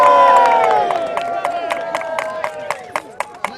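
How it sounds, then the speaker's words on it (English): A crowd at a reenactment of the 1469 Battle of Edgecote raises a sustained, loud cheer of many voices, which gives way to steady rhythmic clapping with sharp, evenly spaced claps. "They deserve a cheer, don't you, ladies and gentlemen?"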